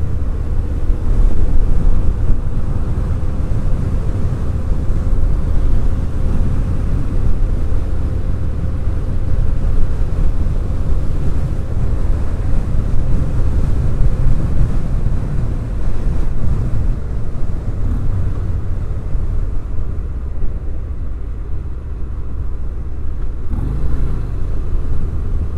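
A 2019 Harley-Davidson Fat Bob 114 motorcycle on the road, its engine a low steady drone almost buried under loud, continuous wind buffeting across the microphone.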